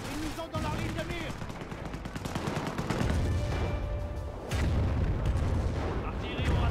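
Nebelwerfer rocket artillery barrage in Company of Heroes: Opposing Fronts, fought in the city of Caen, with repeated booming blasts and rattling gunfire in dense overlapping bursts, loud and continuous.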